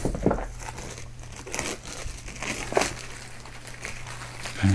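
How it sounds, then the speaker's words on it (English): Cellophane wrapper is torn and crinkled off a Shadows of Brimstone board game box, close-up, quiet irregular crackling and rustling for a few seconds. "cellophane coming off"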